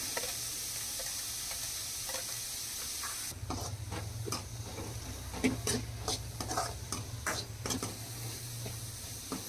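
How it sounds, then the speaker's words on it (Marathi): Corn kernels roasting in a pan: a faint, steady hiss, then from about three seconds in a run of quick ticking pops and stirring scrapes, close but quiet. "मका असे टाकतात पण मी भाजून घेते"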